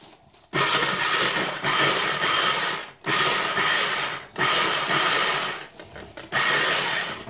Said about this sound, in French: Et je mixe ça rapidement.